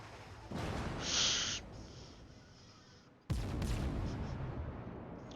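Naval guns fire in World of Warships, two heavy booming blasts a few seconds apart, each followed by a rumbling, whooshing tail, with a faint whistling tone between them and no talk.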